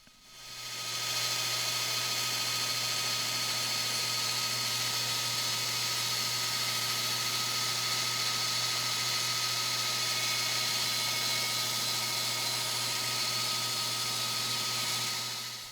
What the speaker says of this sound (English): I have a fence set up on the bandsaw, and I'm just going to cut one side, flip it, cut the other side